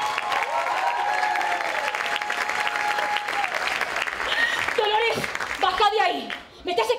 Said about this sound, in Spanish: les damos un aplauso muy grande a Natalia Cochufo